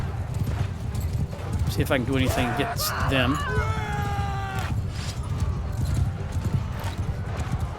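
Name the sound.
horses galloping in the video game Mount & Blade II Bannerlord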